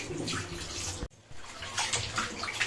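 Water splashing and pouring into a container up close while washing cleaned stingray pieces, with a brief break midway before the rushing sound resumes.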